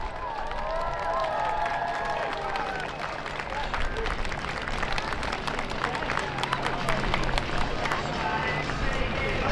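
An air show crowd at Air Power Over Hampton Roads cheers and applauds steadily as Army Golden Knights parachutists land in the target area, with a general roar of voices and some talk mixed into the noise.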